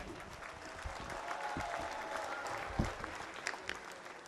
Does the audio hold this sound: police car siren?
no